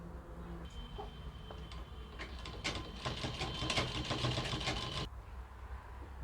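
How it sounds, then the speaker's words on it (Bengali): A sewing machine stitches a replacement zipper into a pair of pants, a fast mechanical rattle that builds midway, runs steadily for a couple of seconds and then stops abruptly, close and fairly quiet, with no talking. "এখানে সাইডে সেলাইটি করে নিতে হবে"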